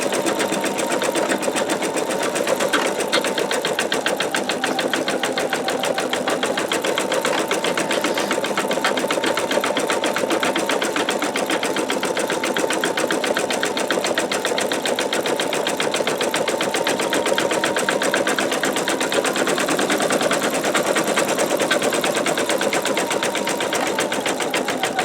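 An embroidery machine fitted with a MagnaHoop magnetic hoop stitches out satin stitches in a steady, continuous mechanical whir with a fast rapid chatter, close and even throughout with no voices.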